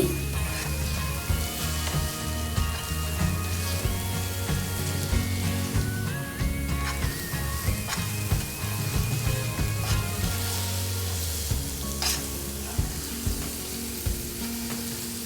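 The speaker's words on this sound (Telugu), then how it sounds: "ఆ పేస్ట్ అంతా వేసి కూడా కలుపుదాం దీని పచ్చివాసన పోయే వరకు కూడా కొంచెంసేపు అలా ఏమేయకుండా ఫ్రై చేయాలి" Ground onion paste sizzles and fries steadily in a pan while being stirred, a continuous close crackle with occasional scraping, as the base for a sweet and spicy onion egg gravy curry.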